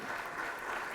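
Dense, continuous clapping from a large church congregation fills the short moment, a steady wash of applause with no voices standing out.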